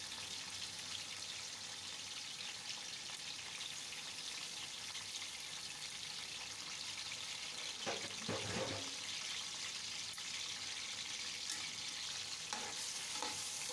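Chicken sizzling in a pot with onions and ginger garlic paste, a steady soft frying hiss throughout, broken by a few brief stirring scrapes near the middle and end.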